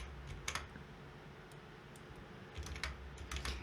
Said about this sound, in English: After you type in 1920 by 1080